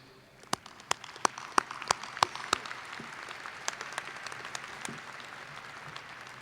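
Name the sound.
applause for alumni board members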